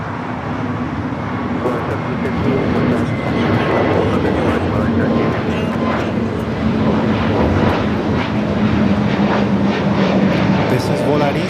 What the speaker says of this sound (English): This is Volaris, flight 715 going to Guadalajara.